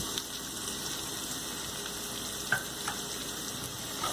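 Ginger garlic paste with turmeric and red chili powder frying in a pan for mixed vegetable sabji, a steady close sizzle with a couple of faint stirring clicks.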